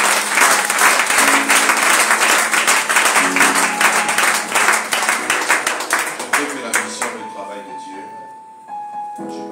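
A church congregation applauds loudly and steadily in acclaim of the Lord, the dense clapping fading over several seconds as a voice and music come through.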